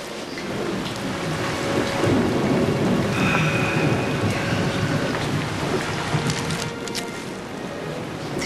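Steady heavy rain pours over a thunderstorm, with low rumbling thunder rolling beneath a dense, constant wash of falling water throughout.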